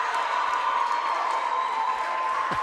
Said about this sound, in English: Crowd is going wild here.